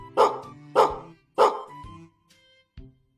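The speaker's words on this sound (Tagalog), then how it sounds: "na-record at tahol ng aso, Abudo." A dog barks three times in an even rhythm, loud and close, followed by a couple of softer short yips.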